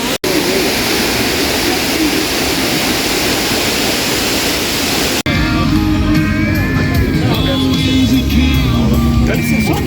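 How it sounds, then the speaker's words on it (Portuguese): The Ducha de Prata waterfall in Campos do Jordão pours as a steady, loud rush of water, then the sound shifts partway through as nearby voices and other sounds mix in. "Olha, gente, a água pertinho."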